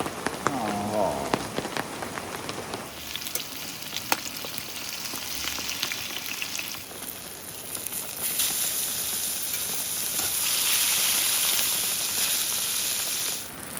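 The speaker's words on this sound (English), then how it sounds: "Oh, it's starting to rain again." Rain patters steadily on surfaces at a campsite by Trask River in Oregon, a dense close hiss of drops with scattered louder taps, swelling toward the end, with a brief voice early on.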